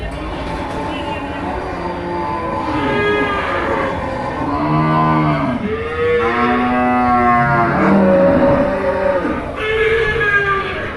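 Cattle and bulls at the Melapalayam cattle market, several long, loud moos and bellows overlapping up close, rising and falling amid busy crowd murmur and talk.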